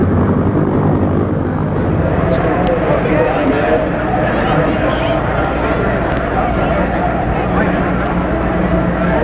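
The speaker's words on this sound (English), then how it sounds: "they will now take this chopper over to the ambulance" Steady, loud rotor and engine drone fills the whole stretch, a helicopter landing close by near an ambulance in Detroit in 1966, with constant roar and no breaks.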